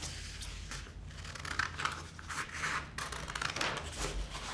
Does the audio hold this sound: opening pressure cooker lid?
no